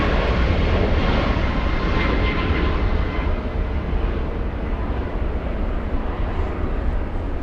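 A JetBlue airliner takes off from runway 24 Left at LAX with a loud, sustained engine roar, heard from a plane-spotting spot nearby. The broad rumble holds steady and fills the whole stretch.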